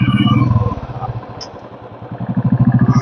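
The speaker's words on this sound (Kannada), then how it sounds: "ರಾಯಲ್ ಎನ್ಫೀಲ್ಡ್ ಬೈಕು ತುಂಬ ಫೇಮಸ್ ಆಗಿರೋದೇ ಅದೊಂದು ಸೌಂಡ್ಗೆ, ಗುಡು ಗುಡು ಗುಡು ಗುಡು ಗುಡು ಅಂತ ಹೋಗ್ತಾ ಇರುತ್ತೆ" A Royal Enfield Electra motorcycle, a heavy bike of about 200 kg, thumps close by with a steady, loud low-pitched beat that slackens briefly mid-way and then picks up again.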